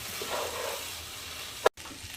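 Rice grains stirred in a hot pan with oil, a short soft sizzle and scraping of the stirring, ending in a sharp clack and a brief cut to silence.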